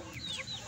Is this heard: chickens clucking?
yes